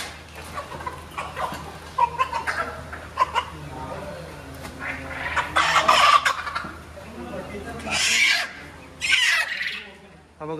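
A village rooster at a rural roadside eatery gives loud squawks and clucks in short bursts, strongest near the end, with voices and background bustle around it.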